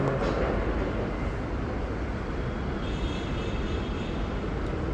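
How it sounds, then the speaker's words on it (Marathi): A metro train approaches along its track, building a loud, steady, broadband rumble that fills the whole stretch with no break. "आवाज येतोय ट्रेनचा. आली बघा."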